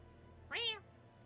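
A single clear cat meow from Metaphor: ReFantazio, rising then falling in pitch, about a third of a second long, heard alone over a quiet low game hum.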